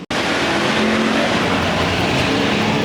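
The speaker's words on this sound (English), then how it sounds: "Jeremy Chisholm out on the gas pedal" A dirt track race car accelerates hard at Watsonville, its engine a loud, close, continuous roar that holds steady across the whole stretch after a sharp onset.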